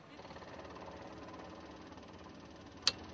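A light aircraft engine runs before takeoff as a steady, faint pulsing drone with an even rhythm, broken near the end by one sharp click.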